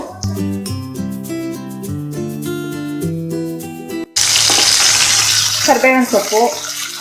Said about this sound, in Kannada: ಅರ್ಧ ನಿಮಿಷ ಚೆನ್ನಾಗಿ ಫ್ರೈ ಮಾಡ್ಕೊಳ್ಳೋಣ.